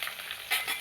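Tomatoes sizzle in a hot tempering pan while an eggplant curry is cooked, a brief steady frying hiss with small crackling bursts and no talk.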